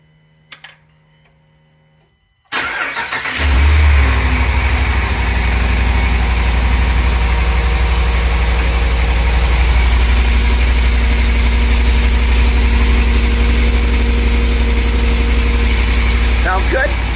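Car engine cranks and catches after exhaust work with the tailpipe tightened, then settles into a steady, even idle that carries on loud and close, with no other noise over it.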